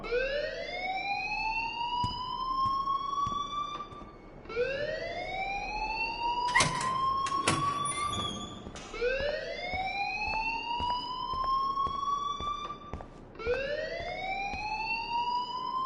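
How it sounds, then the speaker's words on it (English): A rising, wailing school alarm siren in the game Life is Strange repeats in long sweeping cycles, steady and prominent, with a brief cluster of clicks and clatter partway through. "please turn off that alarm since that's your job"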